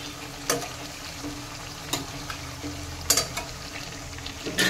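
Spices with ginger-garlic paste sizzle and fry steadily in a pan, with several sharp scraping clicks of a spatula stirring, fairly quiet and close, no speech.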